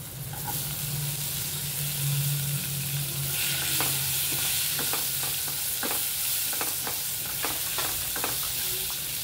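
Onion sizzles in hot masala, a steady frying hiss broken by a series of sharp scraping clicks as a spoon stirs through the pan, close and moderately loud, with no voices.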